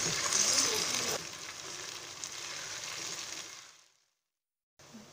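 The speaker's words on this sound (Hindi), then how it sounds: "1 चम्मच अदरक पेस्ट, 1 चम्मच लहसुन पेस्ट और 1 चम्मच ही हरी मिर्च का पेस्ट शामिल कर दूंगी। और इसको हम अच्छी तरह से अब भून लेंगे" Ginger, garlic and green chilli paste fries in a pan with a bright, steady hiss and sizzle that softens, then cuts out briefly before returning.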